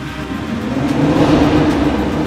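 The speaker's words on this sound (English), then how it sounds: "The mighty M twin-powered turbo 8-cylinder engine in these cars is truly a force to be reckoned with." A BMW M8's twin-turbo V8 engine revs and builds in a steady, loud roar, rising slightly in intensity toward the end.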